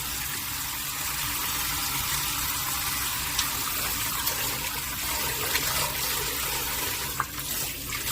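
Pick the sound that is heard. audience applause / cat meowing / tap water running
tap water running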